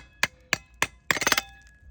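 Solid asphalt in a city alley being broken up, heard as sharp hard knocks and cracks: three separate strikes, then a quick cluster of several crumbling impacts, close and fairly loud with no talking.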